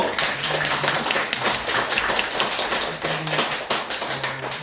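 A small church congregation claps to welcome a member during a service, a moderate, even patter of hands, fairly close and steady, with a faint low hum beneath.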